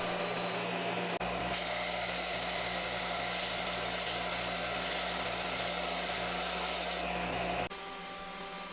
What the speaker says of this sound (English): I gave it a quick sanding to flatten the top, bottom, and all the sides